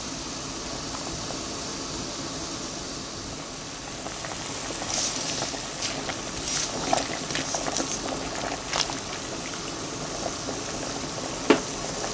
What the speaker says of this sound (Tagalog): habang i-binoboil natin yung spaghetti